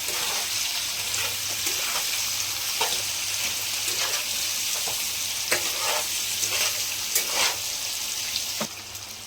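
Sliced onion and green chillies fry in oil with a little salt for a Telugu cucumber chicken curry, a continuous close sizzle broken by repeated spoon-against-pan stirring clicks, no voices.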